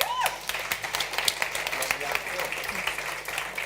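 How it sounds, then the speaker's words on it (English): Applause at the Reluxury Talks 2022 event breaks out for a speaker as the audience claps, a brief burst of scattered handclaps heard under an amplified voice. "Please, a big applause now for Patrik HOFFMANN"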